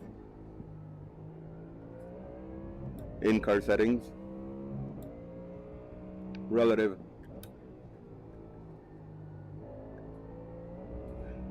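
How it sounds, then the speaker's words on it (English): Ford Mustang race car on a cool early-morning track during practice laps, its engine a steady muffled drone from inside the cabin with a couple of brief sharper bursts, while a person talks over it. "So we'll do a few laps here with our Mustang on a full tank"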